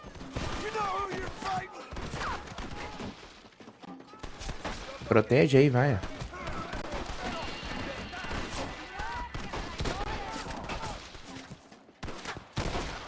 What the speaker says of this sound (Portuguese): Caramba, eu tô tomando um monte de tiro aqui